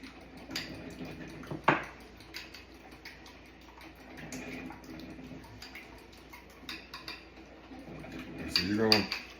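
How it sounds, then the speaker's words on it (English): A utensil stirs seasoning, cayenne pepper and salt, into milk in a bowl, making light repeated clinks and scrapes against the dish, mostly soft, with a louder clatter near the end. "First, we're gonna mix that all up."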